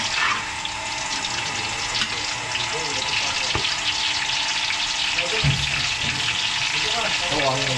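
Steady, loud sizzling of goat meat frying in hot oil, with a few clatters and faint voices underneath.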